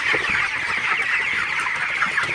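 Broiler chickens suffering heat stroke in extreme heat cluck continuously in a dense, steady chorus close by, with no talking.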